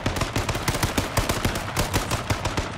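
Rapid bursts of gunfire in the battle-royale video game H1Z1 rattle out in quick succession, loud and close, with a dense automatic rhythm across the whole stretch.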